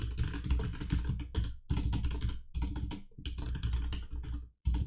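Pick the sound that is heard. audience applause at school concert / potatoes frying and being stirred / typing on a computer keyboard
typing on a computer keyboard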